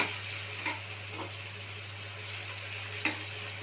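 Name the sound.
onion frying in a pan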